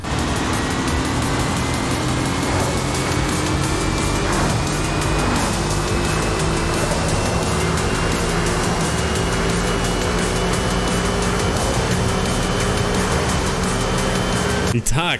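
Electric car accelerating in Forza Horizon 5, a steady rising electric whine over continuous road and tire noise that holds loud throughout.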